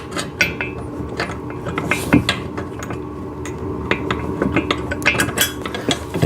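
Metal parts clink and tap as a bolt and washer are fitted into the frame of a Garvee chest press machine during assembly: a close, irregular series of small sharp metallic knocks and scrapes with no speech.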